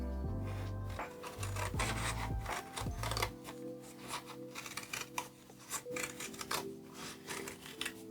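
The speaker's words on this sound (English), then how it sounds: "using my scissors, just cut these out." Scissors cutting out paper shapes, a string of close, crisp snipping and rasping strokes in irregular rhythm, with a low tonal hum fading early on.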